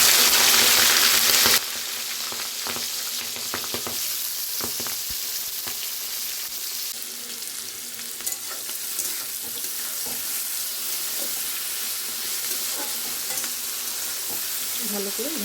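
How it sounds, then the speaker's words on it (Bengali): Black cumin seeds and two green chillies fry in hot oil in a heated wok, a steady close sizzle running throughout with occasional stirring scrapes, after a brief louder burst at the start. "কড়াই তেতে গেছে, তেলটা দিয়ে নিচ্ছি, কালো জিরেটা দিয়ে দিচ্ছি, দুটো কাঁচা লঙ্কা দিয়ে দিলাম"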